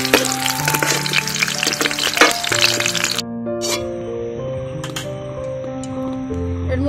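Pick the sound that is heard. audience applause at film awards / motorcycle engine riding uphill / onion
onion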